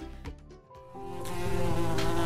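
A wasp buzzes in a steady, tonal drone that starts after a short gap and grows louder and fuller as it continues, heard alone without any voices.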